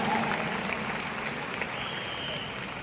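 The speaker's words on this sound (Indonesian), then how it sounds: "saya pinjam tepuk tangan yang paling meriah dari hadirin semua untuk Riway Internasional dan Mr. Lim Boon Hong" A seated audience at a Riway International business seminar claps for the company and Mr. Lim Boon Hong, a continuous, even wash of applause that tapers slightly toward the end under a faint room hum.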